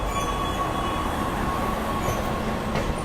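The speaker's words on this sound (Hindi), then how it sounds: "इसके साथ पैरेलल एंट्री लेती है गूड्स ट्रेन" Goods train rolling into an Indian railway station, a steady loud rumble of wheels and wagons with faint squealing, continuous and close throughout.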